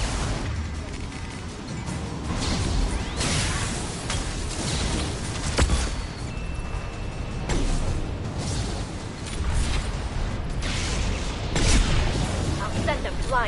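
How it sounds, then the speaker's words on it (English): Flashbang grenades burst in a video game, several sharp bangs scattered over ongoing loud combat noise and background voices. "flashbangs!"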